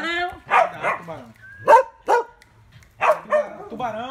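Several dogs bark in short, loud bursts near the listener, with a few spaced yips and barks between people talking nearby.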